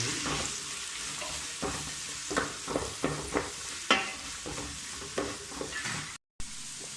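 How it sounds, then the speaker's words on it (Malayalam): Garlic and ginger paste sautéing in a pan with green chilies for a Kerala-style chicken curry, a steady sizzle broken by repeated scraping stirs, close and fairly loud with no talking. "വെളുത്തുള്ളി, ഇഞ്ചി പേസ്റ്റ്, ഇതൊന്ന് ആദ്യം ഒന്ന് വഴറ്റിയെടുക്കണം"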